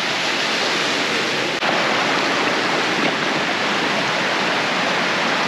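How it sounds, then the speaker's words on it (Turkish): Steady broadband rush of a mountain creek, Kaşıkçı Deresi, flowing near a campsite in the Kaz Mountains; constant, loud and close water noise with no voices. "şimdi zeytinli çayını besleyen önemli Kaşıkçı Deresi'ndeyiz"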